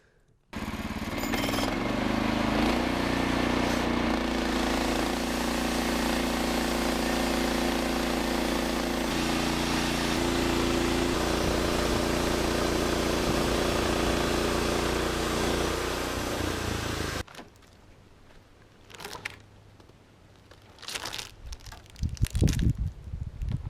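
A chainsaw, loud and close, roars steadily through an odd log, milling a 1.5 inch live-edge slab for a table for about seventeen seconds, then cuts off abruptly, leaving faint knocks and handling noises.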